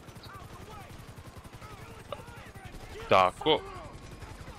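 Gunfire in the video game GTA V, a few distant shots over game background noise, then two louder sharp bursts close together near the end, with a voice speaking briefly.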